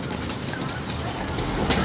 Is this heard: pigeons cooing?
yes